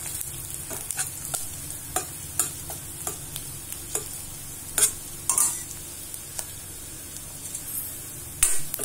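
Onions sautéing with chilli, coriander, turmeric and garam masala for a paneer capsicum gravy, a steady soft sizzle under repeated scraping stir strokes, close and alone with no talk.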